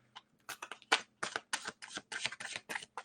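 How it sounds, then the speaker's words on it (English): A tarot deck (8 Coins Tattoo Tarot) being shuffled by hand: about a dozen quick, crisp papery riffles and card slaps in an uneven rhythm, close and clear, with no talking. "shuffled it 2 more times here"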